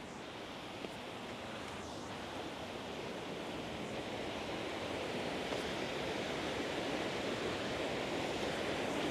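A waterfall rushes as a steady broadband roar that continues unbroken and even, at moderate distance and fairly soft. No voices are heard over the constant water noise.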